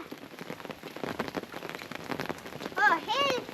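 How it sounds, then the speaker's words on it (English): Rain patters steadily on an umbrella outdoors during snail gathering in France, a dense continuous hiss with scattered drops; near the end a few short, high whistle-like chirps rise above the rain. "We're quite comfortable out here in the rain."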